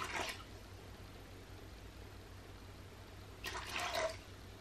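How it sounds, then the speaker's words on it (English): Water is poured from a tipped bucket into a cup during a diaper absorbency test, heard as two faint, brief splashing gushes separated by a quiet pause. "I'm going to grab my cup of water, which I will need to tip my bucket to get."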